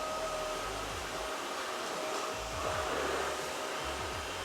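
A eufy Mach V1 Ultra cordless steam mop vacuum runs on max mode, giving a steady, loud motor whir and airflow hiss that holds throughout with slight shifts in pitch, close up and with no talking.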